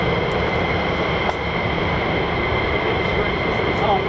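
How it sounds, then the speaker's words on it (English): A military jet engine running up at an Air Force fighter base with F-15 and F-35 jets, a steady distant roar and whine filling the air, with faint voices underneath. "Had another aircraft start up."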